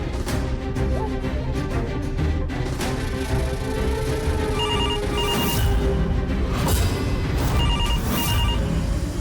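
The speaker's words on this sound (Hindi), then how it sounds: "नव ने तो कहा था कि आधे घंटे में फोन आ जाएगा, वो फोन अब तक बचा क्यों नहीं?" A telephone rings repeatedly indoors in a tense household scene from a Hindi TV serial, its electronic trill sounding in regular bursts over steady background music.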